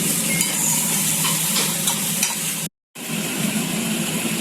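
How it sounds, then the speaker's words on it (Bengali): Rice flour and date jaggery frying and being stirred in a pan give a steady close sizzle with scraping, broken by a brief silent gap before the sizzle resumes. "এটা আমার এখন আস্তে আস্তে ভাজাটা হবে।"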